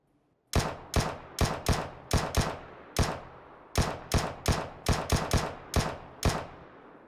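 Gunfire in the video game PUBG: about fifteen sharp, loud single shots, each with a short ringing tail, fired at an uneven pace with brief pauses between small clusters.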